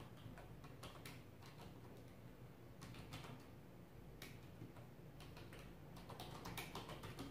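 Light, irregular keyboard typing on a computer keyboard at night, soft clicks and taps scattered through a quiet room with a low background hum, no talking.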